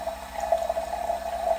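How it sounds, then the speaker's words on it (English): Purified water runs from a countertop water filter dispenser as a steady, thin trickle close by, with a constant ringing tone and no voices. "Sometimes it'll go ahead and take a couple seconds to kind of drip out"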